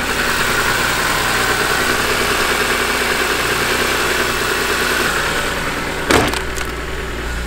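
A cold BMW M3 engine runs roughly at idle, a steady, loud mechanical drone with vibration throughout, followed by a brief sharp burst of noise near the end.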